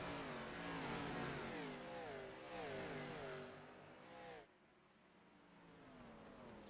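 Race cars in the iRacing video game run an ARCA Series race at Richmond, Virginia, with engines droning and rising in pitch in a steady pack, loud and continuous before dropping away to a quieter engine hum.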